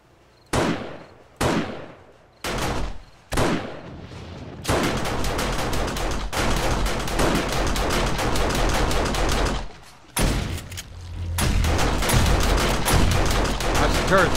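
Defensive turrets in 7 Days to Die open fire, starting with a few separate loud bursts and building into long sustained rapid gunfire that breaks briefly and resumes, close and dominant.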